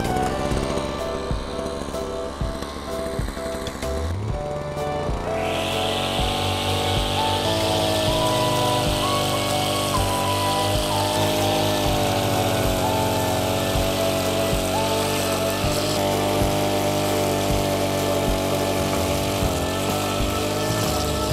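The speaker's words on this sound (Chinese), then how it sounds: "究竟牛筋绳在实际割草的时候，它到底是怎么样打断草的" A grass trimmer with a nylon cord line cuts grass. The engine idles with a pulsing drone, then revs up after a few seconds into a loud, steady, high whine that holds to the end.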